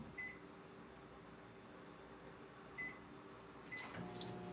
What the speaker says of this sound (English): I'm gonna pop my white candy melts back into the microwave for just, you know, it's still melted, so only about 10 or 15 seconds.